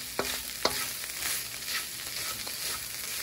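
Vegetarian plant-based taco filling sizzles in a hot pan while a utensil scrapes and clicks through it a few times, close and steady.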